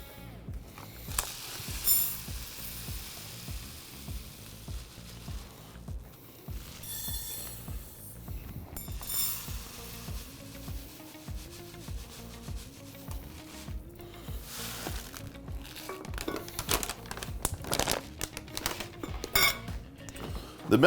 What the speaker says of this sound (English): And we're gonna measure out 2 cups of millet.